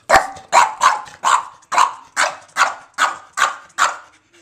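A dog barks about ten times in a steady, evenly spaced series, close and loud, with no talking over it.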